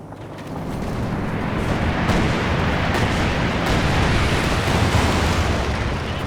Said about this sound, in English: Oh, and he calls on the rocket run